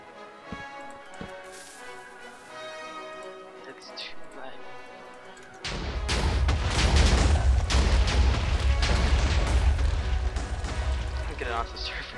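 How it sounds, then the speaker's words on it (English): TNT cannon in Minecraft: a burst of loud, rumbling explosions going off in quick succession for several seconds, following quieter game sounds and chatter. "try my TNT cannon"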